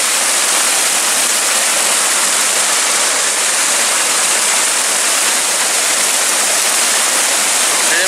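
Clear stream water in the Morvan countryside, rushing as a loud, constant broadband wash close by, with no voices.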